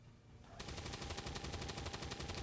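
Rapid automatic gunfire from the XCOM 2 video game begins abruptly and continues as a dense, steady burst of shots under a constant game soundscape.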